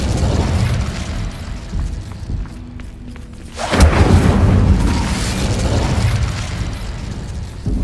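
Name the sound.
Incendio fire spell in Hogwarts Legacy video game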